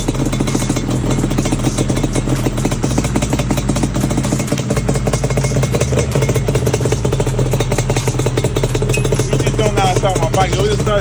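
A Banshee motorcycle engine runs steadily after being kick-started, giving a loud, continuous rattling drone with a clattery edge that holds throughout.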